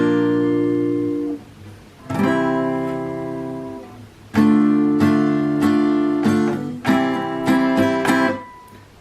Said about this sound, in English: We just strum through the chords